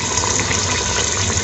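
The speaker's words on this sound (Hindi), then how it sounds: "हम 1 से 2 गिलास पानी डालेंगे।" Water pours steadily from a glass into a cooking pot of okra and meat curry, a continuous close gushing splash with no pauses.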